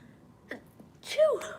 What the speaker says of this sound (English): Sneezing is like clearing the third eye.